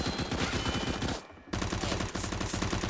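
Gunfire in the game Arsenal: dense, rapid bursts of shots fire almost nonstop and loud, break off for a split second of near silence, then resume just as hard.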